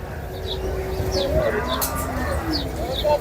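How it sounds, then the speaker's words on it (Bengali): Cattle from Manikganj being unloaded at the Ashulia cattle market low over a busy background, with birds cooing nearby and indistinct voices around. "মানিকগঞ্জ থেকে এই গরুগুলো এসেছে আজকে আশুলিয়া হাটে।"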